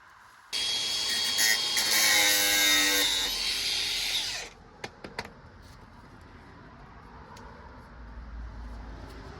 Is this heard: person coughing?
no